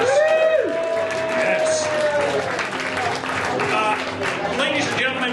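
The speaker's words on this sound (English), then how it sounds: "Let's give them a big round of applause." An audience bursts into sustained applause with some cheering, a dense steady clatter of clapping throughout, with a spoken word at the start and a rising tone sweeping briefly over the opening.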